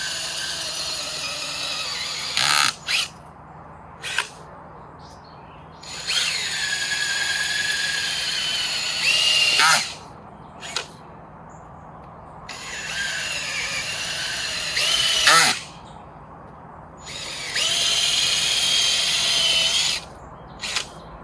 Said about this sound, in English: One day I will get a big fancy auger, but until then, this one works pretty well.